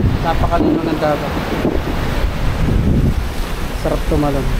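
Wind blows hard across the microphone as sea waves wash in near a seaside cave, a steady roaring rush, with voices speaking briefly over it at moments.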